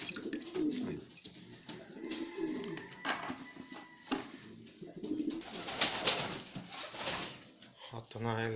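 Pigeons coo softly and repeatedly close by in a loft, mixed with rustling and light clatter, while someone talks over them.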